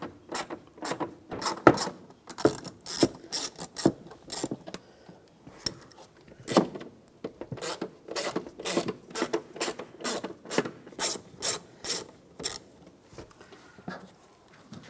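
Rapid ratcheting clicks from a hand tool loosening the lower air box screws on a 2007-2013 Chevy Silverado, coming in close, quiet bursts of repeated ticks with short pauses between them and no talking.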